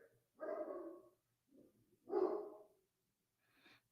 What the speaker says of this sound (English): Here goes my dog barking again.